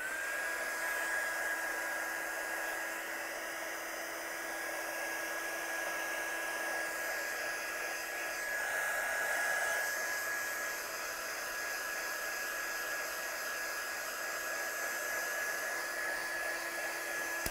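A hair dryer runs steadily and alone for a long stretch, its even whine and rushing air drying an ombre background on a handmade card.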